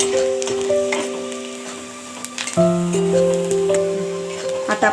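Chopped onion fries in a pan, browned to a pinkish colour for papdi bhaji, with a steady close sizzle, occasional stirring clatter and a sustained background hum.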